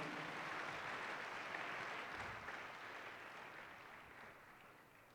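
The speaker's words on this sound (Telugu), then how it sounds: "గట్టి చప్పట్లు కొడతాము ఒకసారి" An audience at a healing prayer service at Divine Mercy Centre, Muthangi, claps in a dense, steady wash of applause that slowly fades, heard from a distance and fairly faint.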